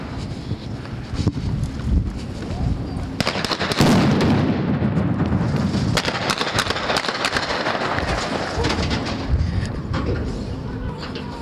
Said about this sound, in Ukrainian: Чуємо стрілянину прямо зараз.